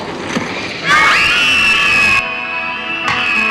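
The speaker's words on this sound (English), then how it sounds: "Whoever screams loudest doesn't have to do any homework tonight." Children scream loudly together, a sustained high-pitched collective shriek that rises sharply, holds for over a second, then breaks off and briefly returns near the end.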